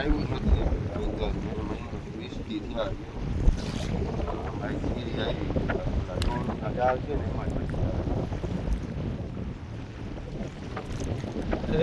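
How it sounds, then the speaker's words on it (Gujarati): Strong wind buffets a fishing boat at sea in rough, wavy water, a steady loud rush of wind noise and engine-like rumble running continuously throughout with a brief gust spike. "આજે પવન વધારે છે, મોજો થઈ ગઈ."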